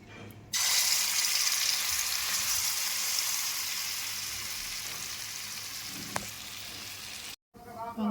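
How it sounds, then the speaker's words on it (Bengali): Dhoka lentil cake pieces hitting hot oil in a wok, a loud sudden sizzle that stays steady and slowly fades, with a single sharp utensil tap near the end before an abrupt cut. "গরম তেলের ভিতরে এটা ঢেলে দিয়ে এটাকে ভালো করে একটু নাড়াচাড়া করে নিতে হবে"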